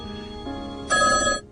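A telephone rings in short electronic bursts that step up in pitch and loudness, the last burst bright and strong before it stops, with no voices over it.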